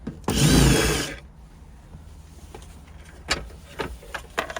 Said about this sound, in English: It looks like there's some 10mm right here and right there. So we'll buzz those off.